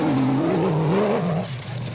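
Gymco rally car in the special vehicle class at the 2006 Lesotho Sun 400, a steady loud engine drone whose pitch rises and falls with throttle, continuous and close for the whole stretch.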